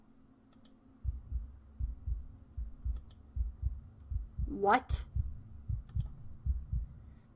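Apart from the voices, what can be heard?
heartbeat in the video game Demonheart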